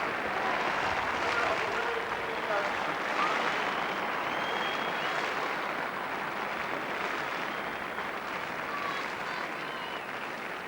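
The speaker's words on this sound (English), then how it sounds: "just listen to the applause" A stadium crowd at the 1984 British Olympic trials at Crystal Palace applauds a runner after a junior world best, a broad, steady, distant wash of clapping with a commentator's voice over it.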